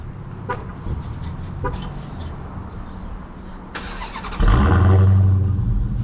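A Dodge Hellcat widebody's engine cranks and catches near the end, settling into a loud idle after a few seconds of quiet background noise; the engine is warm, not cold.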